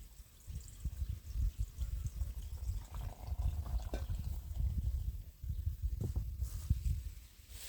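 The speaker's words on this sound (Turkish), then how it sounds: "O yüzden peşin hazırladım ve suyumu koyuyorum." Cooled salt brine water is poured over cheese in a village garden, a steady low gurgling splash running across most of the stretch with brief pauses and no talk.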